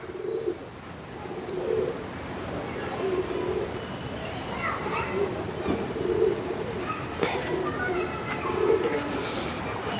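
Racing pigeons cooing in a loft, a low repeating coo that recurs steadily through the clip against a busy, noisy background with faint outdoor activity.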